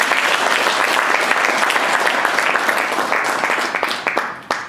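A seminar audience at a goal-setting event claps loudly and continuously, a thick wash of many hands that stays steady before tapering slightly at the end.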